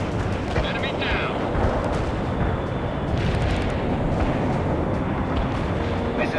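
Napalm strike explosions in the World in Conflict strategy game, a dense rumbling roar of fire and blasts with crackling bursts, loud and continuous, with radio-style voices over it.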